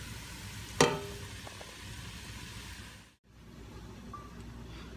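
Garlic sautéing and being stirred in a pan while making a quinoa salad: a soft, steady sizzle with a brief clattering scrape of the utensil near the start.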